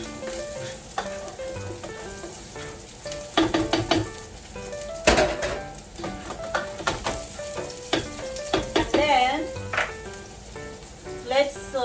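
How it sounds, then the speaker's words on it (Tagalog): Onion sautéing in a pan for a pork rib and green tomatillo sauce, with a steady frying sizzle broken by stirring scrapes and a few sharp clanks of utensil on pan, close and fairly loud. "let's saute the onion"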